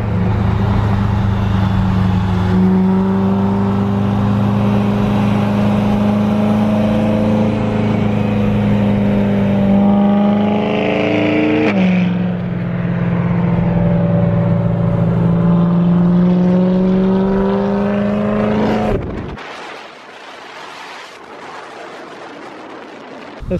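A BMW M3 engine revs and accelerates loudly up close, a sustained roar whose pitch rises, dips briefly, then climbs again before cutting off abruptly into quieter background noise near the end.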